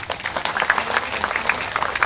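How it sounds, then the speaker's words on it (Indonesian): An audience at an Islamic lecture marking Indonesian Independence Day claps for the organizing committee, a short, uneven burst of many hands close by with individual claps popping out. "Tepuk tangan untuk para panitia."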